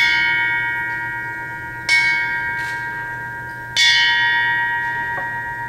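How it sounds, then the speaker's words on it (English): A bell rung at a school remembrance ceremony gives three clear metallic strikes spaced about two seconds apart, each bright tone ringing out and slowly decaying against a quiet room hum. "So we ring this bell to honor the 30 million lives who were lost"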